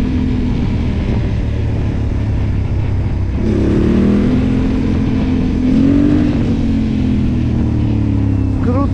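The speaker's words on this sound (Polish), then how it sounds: "Uwielbiam w ogóle dźwięk tego silnika i tego wydechu." A loud Yamaha Raptor ATV engine with an FMF aftermarket exhaust idles roughly, then revs up through the throaty exhaust, rising and falling in pitch, close by.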